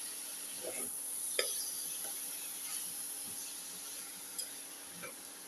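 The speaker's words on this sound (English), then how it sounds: "Keep on sauteing." Ginger, beef and shallots sautéing in a pan, a soft, steady sizzle and hiss at low level, broken by a few light clicks and scrapes as the mixture is stirred.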